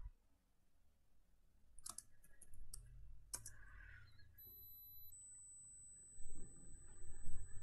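A computer keyboard clicks as someone writes code, a few sparse, quiet keystrokes spread through an otherwise hushed room with faint low background hum.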